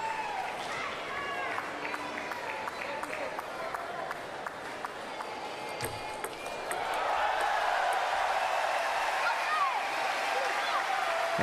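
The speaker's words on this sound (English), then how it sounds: "you can hear some of the noise happening on some of the other tables, the crowd reacting to that" An arena crowd at a para table tennis event reacts to play on other tables, a broad murmur that swells into a louder, sustained cheer with clapping. Scattered ball pings sound earlier, and commentary runs underneath.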